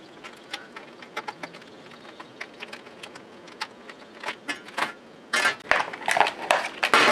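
Cardboard box being cut open, a series of sharp scraping and tearing crackles that grow louder and denser toward the end, close and without talk.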